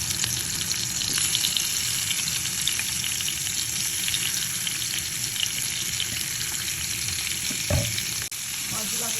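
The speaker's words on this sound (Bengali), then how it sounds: "মাছটাকে ভেজে দিব।" Fish sizzles steadily in a frying pan with bright, crackling hiss, and a soft knock or clunk near the end; nobody speaks.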